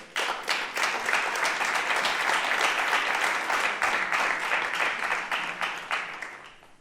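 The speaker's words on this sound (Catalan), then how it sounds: "Endavant, Mireia, un aplaudiment." Audience applause at a Catalan school awards gala, the thirteenth edition of a short-film festival, as a sustained dense burst of many hands clapping that fills the room steadily before tapering off at the end.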